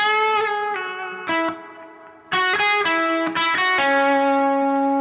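Sustained electric guitar notes ring out, surrounded by ambient reverb and delay. A few single notes are picked in a slow sequence, each blooming and lingering into the next, with the final note held long and full.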